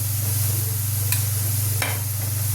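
Fenugreek leaves sautéing in a pan with chilli powder, black chilli powder and turmeric, a steady low frying hiss with two brief scraping stirs, close and continuous, no voices.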